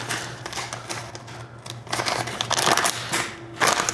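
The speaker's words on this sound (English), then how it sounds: "It comes in this very simple little plastic case, just like this." Close, crinkly rustling and snapping of a simple little plastic microphone case being opened and handled, with dense crackles that grow louder toward the end.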